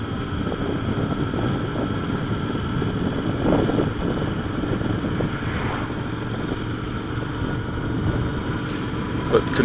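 Royal Enfield 650 Interceptor motorcycle with an engine of about 47 horsepower, accelerating on a road ride; a steady engine drone with broadband wind rush stays loud and continuous throughout.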